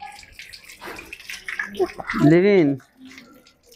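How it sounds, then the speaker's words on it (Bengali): Water runs from a tap for a short burst while a child washes their hands, with a voice and adult talk around it. "এই এখন হাত ধুচ্ছে"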